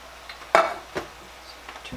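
A spoon knocks and scrapes in a pot of meat sauce with canned tomatoes, giving one sharp clank followed by a few lighter taps and soft stirring scrapes, close by and with no talking.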